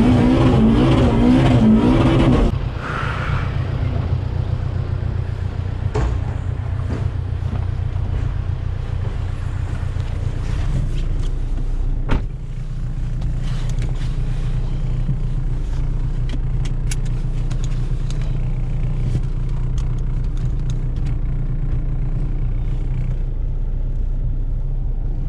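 A turbocharged Honda Civic Si driving in fourth gear on winter roads, a steady loud engine drone and low rumble from inside the car, with a brief rev at the start and road noise throughout.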